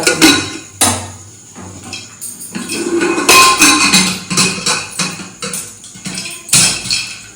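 Corn kernels popping in a hot covered pan: loud, irregular sharp pops and clattering knocks against the lid and metal, several in quick bursts, close by and without talk.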